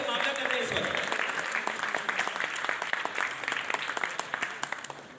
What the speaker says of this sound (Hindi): मेरा ख्याल है कि तालियां रुकनी नहीं चाहिए